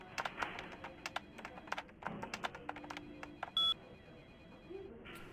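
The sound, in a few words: telephone dialing in video game Vampire: the Masquerade Bloodlines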